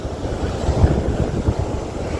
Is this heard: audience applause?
no